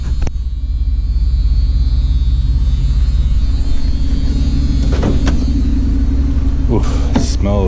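The V8 engine of a Plymouth Gran Fury rumbles steadily and loudly at idle, a low, continuous throb, with a few brief voices near the end.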